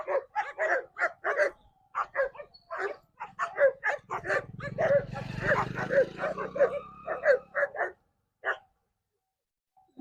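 Dogs barking outdoors in a village in Madhubani district, Mithila, a rapid series of sharp barks and yips, fairly close, with a low rumble of traffic beneath mid-stretch.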